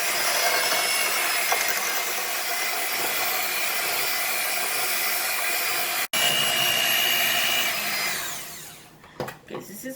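An electric mixer beats wedding-style cake batter with a steady, bright whirring whine, then winds down and stops near the end, followed by a few light clatters.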